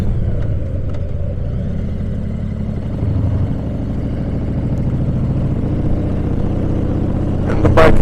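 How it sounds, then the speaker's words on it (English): Low, steady loping rumble of a 2018 Harley-Davidson Heritage Classic 114 V-twin cruising at low RPM in sixth gear, continuous with a slight rise in loudness near the end and no talk. "And in 6th gear, the RPMs are nice and low and loping."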